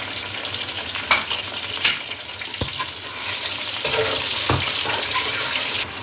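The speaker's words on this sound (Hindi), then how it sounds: "जब प्याज हल्का सा ब्राउन हो तो इसमें हाफ़ kg मटन वो शामिल कर दें और इसको भून लें" Mutton frying in a pan with browned onions, sizzling, with occasional stirring scrapes and clinks over a steady hiss.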